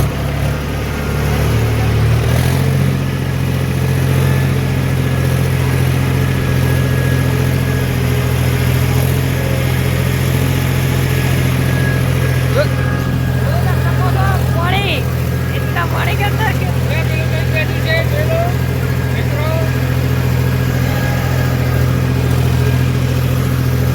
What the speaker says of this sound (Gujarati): આ ટ્રેક્ટરની રેસ રાખજે.